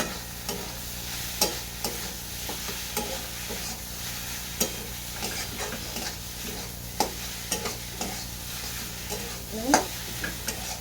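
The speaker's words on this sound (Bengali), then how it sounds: "একটু হলুদের গুঁড়ো দিয়ে দেবো আবার নেড়ে চেড়ে দেবো" A cauliflower paratha filling with onion, garlic, ginger and turmeric is stirred in a pan, a quiet ongoing sizzle broken by repeated spatula scrapes and taps at an uneven rhythm.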